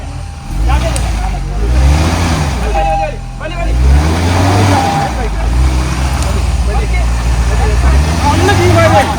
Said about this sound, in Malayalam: വണ്ടി നീങ്ങുന്നുണ്ട് വണ്ടി പോവാണ്